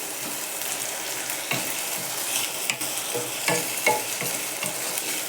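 Potatoes and peas stir-fried in a pan, a constant soft sizzle broken by irregular scraping stirs of a spatula, close and moderately loud with no talking.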